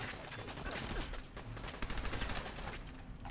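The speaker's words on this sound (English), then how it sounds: "God, I hate the recoil on the SMG in this game." Rapid bursts of submachine gun fire from Fallout 4, a quick volley of shots heard faintly and at a distance.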